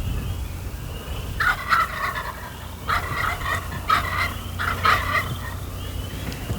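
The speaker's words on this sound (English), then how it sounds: "They gobble to attract that hen over to them." Wild turkey toms gobble in spring woods, three loud rattling bursts around two, three and five seconds over steady background noise, with no talk.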